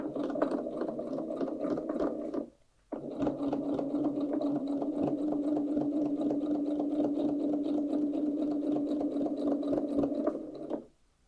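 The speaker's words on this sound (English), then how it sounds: "So I'm going to stitch all the way around here." A sewing machine runs steadily while stitching around a fabric shopper bag, with a close, even mechanical whir and rapid needle chatter, a brief pause just before three seconds, then another long continuous run.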